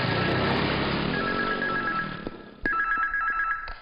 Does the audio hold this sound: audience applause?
no